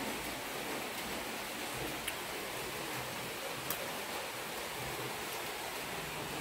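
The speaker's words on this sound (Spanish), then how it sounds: "rica lluvia" Steady, even hiss of rain falling, a continuous soft wash of noise with occasional faint ticks.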